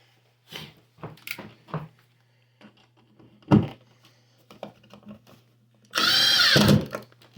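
Screws are driven into an electrical outlet box with a power drill, heard as scattered clicks and knocks followed by a loud burst of drill whirring near the end, over a faint steady hum.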